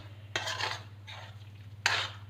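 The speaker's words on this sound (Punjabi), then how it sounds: "ਹੁਣ ਆਪਾਂ ਸਾਰੇ ਮਸਾਲੇ ਇਹਦੇ ਵਿੱਚ ਚੰਗੀ ਤਰ੍ਹਾਂ ਮਿਕਸ ਕਰ ਲਾਂਗੇ ਔਰ ਪਕਾ ਲਾਂਗੇ" Spices are stirred into a sweet-sour amla chutney with sugar in a pan, giving two distinct scraping strokes of a spoon against the pan over a soft sizzle, close by and with no talking.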